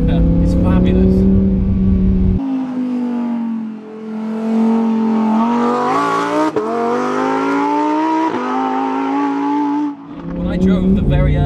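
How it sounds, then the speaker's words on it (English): A Lamborghini Huracan engine revs loudly and close, climbing and dropping in pitch through sharp downshifts with throttle blips, its roar cutting in and out between gear changes. "But those downshifts, man, it just has me shifting when I don't even need to. I find myself playing it like an instrument"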